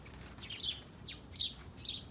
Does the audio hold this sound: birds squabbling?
yes